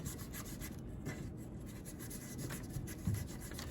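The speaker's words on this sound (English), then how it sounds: "We'll take the red rose and just rub it in each of the cells of the column that says red" A red rose petal rubbed against the cells of a test plate in an acids-and-bases lab, giving a soft, steady scratchy rasp that runs continuously and close by, with a slightly louder scrape near the end.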